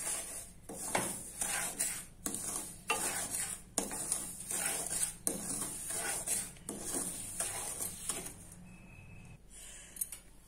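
A spoon stirs semolina roasting in a pan for Punjabi-style halwa, scraping rhythmically against the metal in repeated strokes with a faint sizzle beneath, close and steady, then trailing off at the end.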